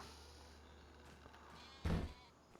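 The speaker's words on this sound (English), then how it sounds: "And we've got our sheep right here." A sheep in the video game Farming Simulator 25 gives a single short bleat near the end, over a quiet steady game background.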